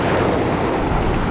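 Loud ocean surf and strong gusting wind at a fishing spot, a constant roaring wash with heavy wind buffeting on the microphone, briefly heard with no talking.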